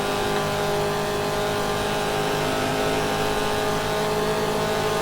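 1967 Trans Am race car engines in GTR2, over two liters, droning loud and steady at high revs throughout without a break.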